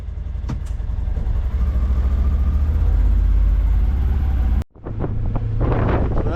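A Polaris Ranger utility vehicle driving over frozen dirt on a wet, rainy day, with a loud steady engine drone and heavy wind buffeting the microphone before the sound cuts to a quieter, rougher stretch.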